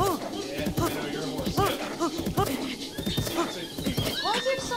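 A horse in Zelda: Breath of the Wild whinnies repeatedly in short, wavering neighs mixed with hoof clip-clops, while people talk over the game sounds.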